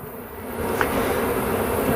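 A steady, dense hum of many honeybees buzzing close by, continuous and unbroken throughout.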